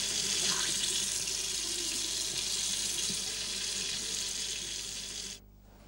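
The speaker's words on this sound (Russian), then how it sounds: "Вообще, на всякий случай, споласкиваешь, я бы сказала." Water runs steadily from a kitchen tap as beets are rinsed. The close, loud, broadband rush continues unbroken until the flow is shut off abruptly near the end.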